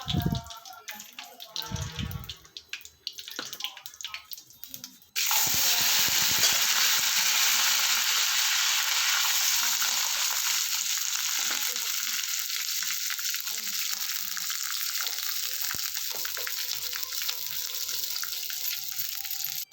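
A short stretch of voices and light clatter, then a loud, steady sizzle of mustard seeds and lentils frying in hot oil that continues to the end.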